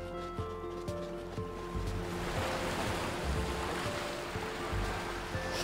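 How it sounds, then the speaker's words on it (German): Beach waves in the video game Youtubers Life 2, heard as a continuous soft surf wash with gentle swells, plus a few low soft thuds and tones from game music near the start. "Strand."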